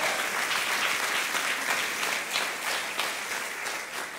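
A church audience claps loudly in thanks, a dense, steady wash of applause that holds evenly throughout and only slightly eases toward the end.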